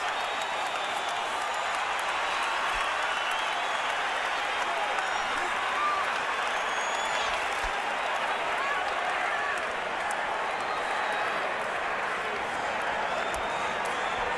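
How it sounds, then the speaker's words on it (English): At a Las Vegas boxing match between Manny Pacquiao and Juan Manuel Marquez, a large arena crowd roars and applauds in a continuous, distant wash of cheering that holds steady throughout. "The crowd's on its feet."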